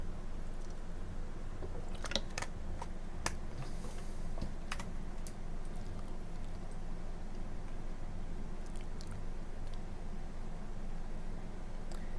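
Someone plays the block game Cubyz with one hand on the mouse and one on the keyboard. Close, crisp key clicks come in scattered bursts, clustered near the two-to-five-second mark, over a low steady room hum.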